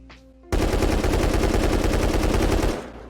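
A custom SMG in the video game Rust fires one sustained automatic burst of about two seconds of rapid, loud shots, then cuts off.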